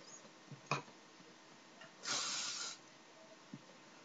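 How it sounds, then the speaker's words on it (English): A short burst of hairspray hissing for under a second onto backcombed hair in an otherwise quiet room, with a couple of small knocks around it. "And I'm going to spray this."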